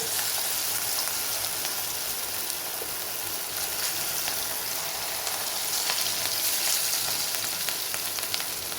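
Chicken pakodi frying in hot oil gives a steady, dense crackling sizzle that runs unbroken and fairly close throughout, with no voices.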